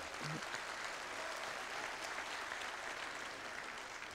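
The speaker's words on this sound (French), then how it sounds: "Vous pouvez l'applaudir." A crowd at a National Front party congress in Lyon applauds steadily, a dense, even wash of clapping that holds for several seconds.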